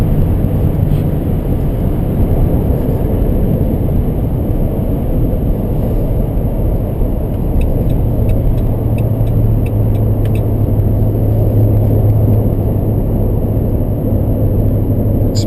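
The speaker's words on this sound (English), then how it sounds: "people try and get a little feel for the power of the motor when they're merging onto the freeway" A 2011 Dodge RAM 1500 pickup accelerating onto a freeway, heard from inside the cab as a steady, loud engine rumble mixed with road noise, with the engine note rising partway through.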